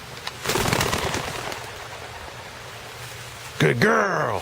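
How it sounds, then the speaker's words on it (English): A bird bursts up ahead of a hunting dog in the field, its wingbeats giving a short flurry near the start and a brief call-like sweep near the end, with a voice talking and praising the dog around it. "There it is. That's the bird."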